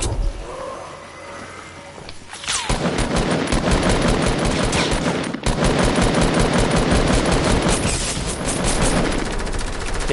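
Rapid automatic gunfire from the video game Fortnite, loud and sustained bursts that start after a quiet opening and continue with a brief break midway, no speech over it.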